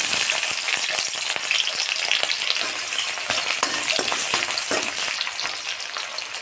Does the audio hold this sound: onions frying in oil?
yes